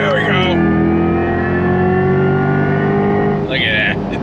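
A 2024 Chevrolet C8 Corvette E-Ray with a Tremec transmission accelerating hard on throttle, a loud sustained engine note climbing in pitch over a few seconds, with a brief upshift break near the end.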